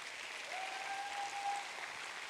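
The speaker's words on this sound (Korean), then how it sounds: "우리 옆에 있는 지체들을 진심으로 축하하는 축하의 박수를" Church congregation applauding to congratulate fellow members, a brief burst of steady, crowded clapping with a thin tone hovering above it.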